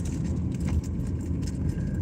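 Steady low rumble of a car's interior while driving, with road and engine noise holding even and close throughout, with no speech heard.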